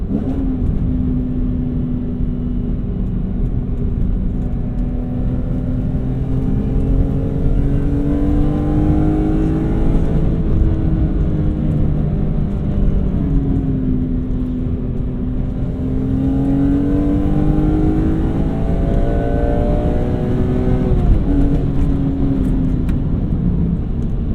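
A BMW E46 M3 with the SMG gearbox pulls hard in third gear, its engine note rising in two long sweeps with a brief dip as the revs fall between them, loud and continuous from inside the car with no talking.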